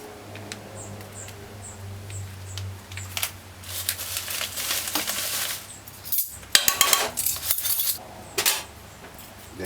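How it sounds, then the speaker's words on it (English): A metal fork scrapes and clinks against a pot while stirring curry powder to toast it for turkey neck and butter beans, scattered sharp taps and scrapes growing busier in the second half, with a low hum early on. "Then use a fork and just burn the curry."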